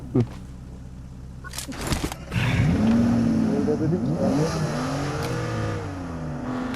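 A video game vehicle's engine revving loudly, its pitch sweeping up and down in repeated surges after a few knocks and clatters, with voices of players talking around it.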